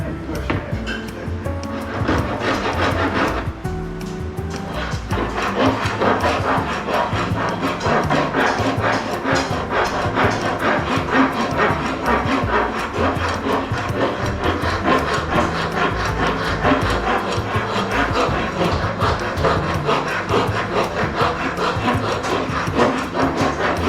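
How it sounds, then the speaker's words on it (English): A farrier's rasp files steadily along a wooden longbow limb, shaping it to an even thickness and a D-shaped section; close, loud rhythmic scraping strokes continue without pause, with no talking. "The old farrier's rasp."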